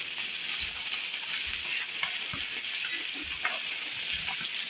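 Fish frying in a pan gives a steady close sizzle with a few low knocks and scrapes from handling, no voices over it.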